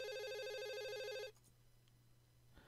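A mobile phone ringtone in the visual novel Katawa Shoujo, a steady, bright electronic ring that sounds clearly for just over a second and then cuts off abruptly, leaving quiet room tone.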